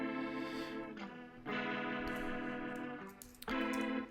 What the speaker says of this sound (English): It's got a cool tremolo sound on that one.